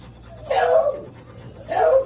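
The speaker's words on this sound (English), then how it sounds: "I have beagles, in case you haven't noticed yet." Beagles in a home kitchen give two drawn-out whimpers with panting in between, close and fairly loud, while cooking is under way.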